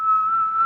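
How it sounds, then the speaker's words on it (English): A single steady, high-pitched whistle tone held for under a second, loud and close. "Blow a whistle for me."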